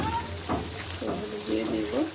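Fish pieces marinated in turmeric and salt fry in hot oil with a soft, continuous sizzle, while a voice talks over the cooking.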